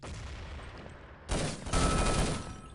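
Gunfire during a competitive online shooter match, a short burst of rapid shots that starts suddenly partway through, then a second louder volley, fairly close and with no talking over it.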